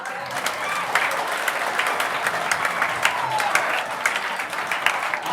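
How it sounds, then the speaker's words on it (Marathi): Audience applauding at a school talent hunt exam prize distribution, steady dense clapping from a crowd throughout, with a voice heard faintly beneath. "टाळ्या वाजवा बरं एका जोरदार"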